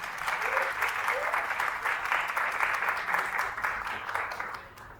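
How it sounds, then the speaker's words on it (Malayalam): A crowd at an engagement ceremony applauds together, a broad, sustained burst of clapping that holds steady for several seconds before thinning slightly at the end, heard at moderate distance. "ഈ തീരുമാനം എല്ലാവരും അംഗീകരിക്കുന്നുവെങ്കിൽ കൈയടിച്ച് അത് അറിയിക്കാവുന്നതാണ്"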